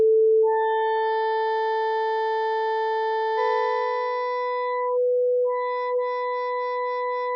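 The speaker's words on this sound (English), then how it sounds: "this is the number of sine waves used to recompose the sound of the original sample" Pure sine-wave tones from additive resynthesis of a sample in the Outgrowth app: steady stacked harmonic partials that shift in pitch partway through, then turn into a rapidly pulsing, stuttering pattern, clean and alone.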